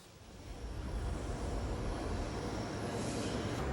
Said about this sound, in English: The real workhorses of the famine relief effort are planes like these, the C-130 transport.